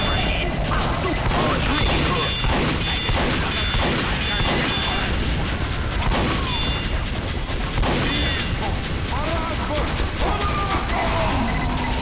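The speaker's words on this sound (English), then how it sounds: "Oh, someone's turret got me." A sentry turret firing in Team Fortress 2 during a Halloween match, heard as dense, loud gunfire and crashing impacts that never let up, with game sounds layered on top.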